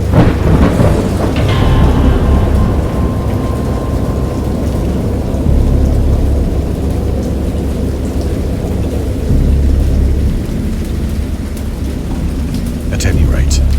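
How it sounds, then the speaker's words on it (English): A heavy thunderstorm with loud rolling thunder and steady rain pouring on surfaces, constant and close throughout, with a sharper crack near the end. "I know that I heard pearls of thunder and other tones which nature utters only in her wildest moods."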